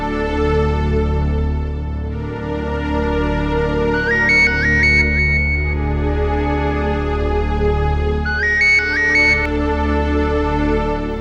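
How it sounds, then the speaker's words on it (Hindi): A phone rings in a scene from a Bhojpuri TV serial: two short bursts of a bright, trilling ringtone melody, a few seconds apart, play over steady background music. "सुनील को फोन लगाता हूँ।"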